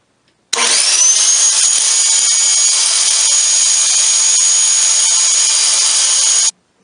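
A power saw cuts 1/4-inch plywood panels for a pantry cabinet back: one sustained, loud, high-pitched whine that starts abruptly, holds steady for about six seconds and cuts off sharply, with no talk.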